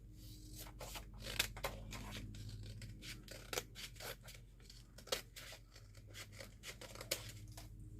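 Scissors cut paper pages for a junk journal, giving a quiet, quick series of crisp snips and rustles that repeat steadily with no talk.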